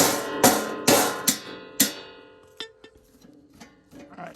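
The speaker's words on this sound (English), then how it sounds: "I'm going to tap them with a hammer." A hammer tapping on welded lawn mower blades on a Wright Manufacturing cutter deck: five ringing metallic strikes spaced about half a second apart, each decaying, then a few lighter, quieter taps and clinks close by.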